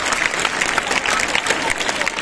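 Loud, dense audience clapping at a Marathi lecture hall, a brief continuous burst of applause from a large crowd.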